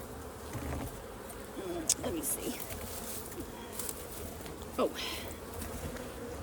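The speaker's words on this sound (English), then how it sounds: "see just how many bees there are up the top box already" Honey bees swarm the top box of a backyard hive, a steady faint buzzing drone throughout with a few brief closer passes, while a person speaks briefly nearby.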